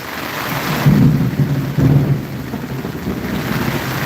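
Thunder rolls through a storm over steady rain, two deep rumbling swells close together, loud against the constant wash of falling water.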